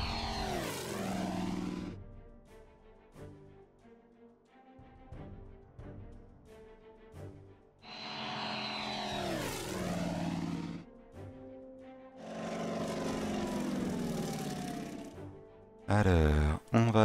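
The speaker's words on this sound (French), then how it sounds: "Alors là, c'est notre Wildcat." A Wildcat propeller fighter in the WW2 strategy game Order of Battle, its engine rising and falling in three swooping passes over the clip, with someone talking over much of it.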